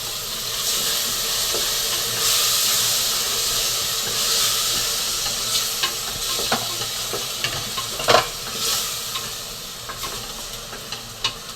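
Ground shallot paste hisses and sizzles steadily in a hot pan for egg fry biryani, with occasional stirring clinks and scrapes over the continuous frying noise.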